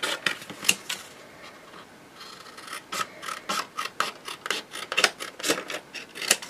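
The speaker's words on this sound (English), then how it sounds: "Just cut around it and see." Scissors trim paper around a butterfly cut-out, producing a run of crisp, close snips and rasping cuts in an uneven rhythm.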